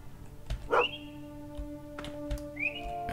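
A dog barks in the Potion Permit video game, giving one sharp bark followed by short whistle-like calls over a steady background music drone.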